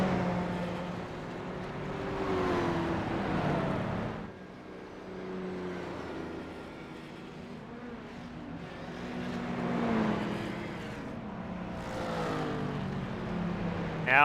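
Race cars in a sports car series pull out onto the track for warm-up laps, their engines droning at a moderate distance in a steady, slowly swelling and fading wash of sound with no voices.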